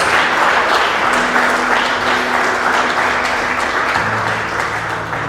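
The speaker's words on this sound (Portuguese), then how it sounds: "Aplauda o Senhor se você crê nisso" A church congregation applauds loudly and continuously at a worship service, dense sustained clapping close by that tapers slightly toward the end.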